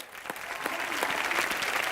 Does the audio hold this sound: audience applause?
yes